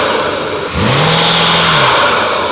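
A BMW F9X M5/M8 engine revs once with the hood open, its intake note climbing into a loud, sustained drone that holds steady for over a second before easing off, close by and alone.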